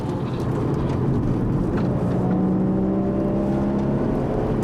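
Steady engine drone from a Porsche 981 Cayman with manual transmission lapping the Inje Speedium track, heard continuously from inside the car as a sustained hum, with no talk during this stretch.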